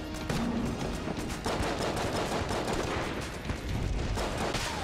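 Boss gunfire in the video game Enter the Gungeon comes as rapid bursts of shots, with repeated sharp pops packed closely together over a busy game backdrop.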